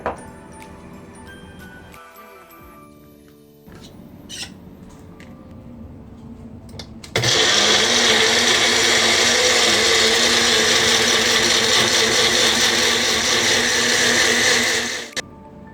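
A kitchen blender whirs loudly and steadily for about eight seconds while blending orange juice with two spoons of sugar, following quieter clinks and handling sounds.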